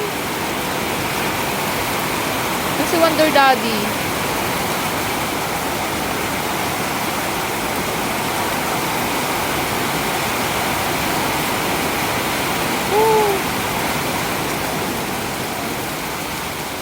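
Steady heavy rain roars as a dense, continuous wash of noise, with a few faint voices and brief whistly sounds briefly rising above it.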